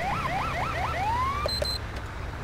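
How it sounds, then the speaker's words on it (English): An FDNY ambulance siren in GTA 5, played in quick rapid yelps that sweep up and down, then a long rising wail, followed by two short electronic horn blasts, loud and close. "FDNY ambulances are, like, notorious for playing with their sirens, like, the way I'm doing right now"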